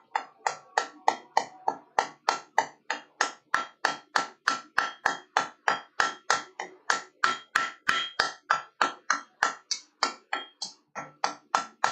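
A hammer beats steel on an anvil while forging a long S hook from quarter-inch stock, a steady rapid series of some thirty ringing strikes, close and loud, with no speech.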